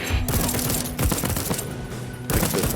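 Turret gunfire in the Deathloop shooter game: continuous rapid automatic bursts, loud and close, with brief gaps between volleys and a steady rattling rhythm.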